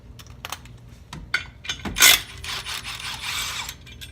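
A ratchet wrench loosens the 15 mm bolt on the secondary clutch of a 2016 Polaris Ranger 900 Crew, giving close, loud rapid clicking bursts, a brief sharp clank, then a steadier grinding ratchet run.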